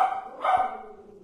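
A dog indoors barks at another dog passing outside, seen through a gap in the front door, giving one short, close bark with a brief whine-like tail and no talk.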